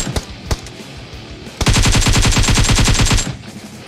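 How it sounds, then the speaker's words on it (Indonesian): Automatic gunfire in PUBG Mobile on the Livik map: a few scattered shots, then a long, loud, rapid burst lasting nearly two seconds before it tapers off. "ada orang tembak aku, ada orang tembak aku"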